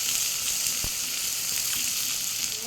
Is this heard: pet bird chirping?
no